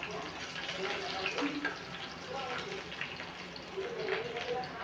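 Finely chopped onion frying with a few curry leaves in a pan gives a soft, steady sizzle with faint crackles throughout, close and moderately quiet.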